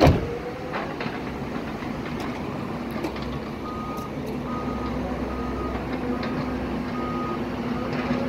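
Reversing beeps from a truck out on a scrap metal run, a steady repeating tone sitting over a continuous rumble of engine and road noise at moderate distance.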